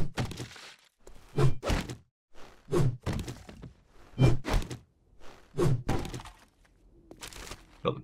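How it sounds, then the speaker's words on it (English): Cloth couches being harvested in the video game 7 Days to Die, heard as a run of about six heavy thunking, crunching impacts at a steady pace, each a short loud burst separated by brief gaps. "I'm just going to quickly harvest these couches"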